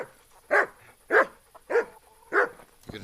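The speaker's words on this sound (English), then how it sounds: "You gonna still bark?" A dog barks four times in an even rhythm about half a second apart, each bark loud and close, then a small clatter at the end; no one talks.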